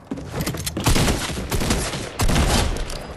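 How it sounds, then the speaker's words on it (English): Gunfire rattles in a Fortnite solo squads match, several loud bursts of shots in quick succession with sharp cracks at the start and again near the end, no talk over them. "Man, I'm getting sniped."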